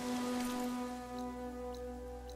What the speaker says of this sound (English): Rain's drowning out other sounds.